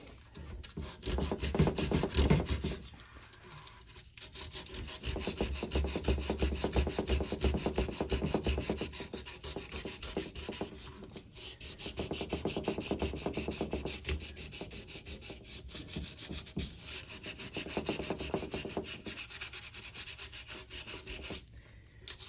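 A painted motorcycle fuel tank is scuffed by hand with abrasive, producing close rhythmic scratchy rubbing strokes in repeated bursts with brief pauses between them, and no talk.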